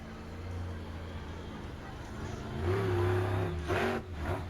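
Monster truck engine at a monster truck freestyle event in Ransomville, NY, rumbles at a distance and then revs up louder partway through, a deep growl with crowd and arena noise around it.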